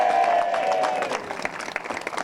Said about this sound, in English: a big round of applause, please, for winning mechanic as well for Kai Hunter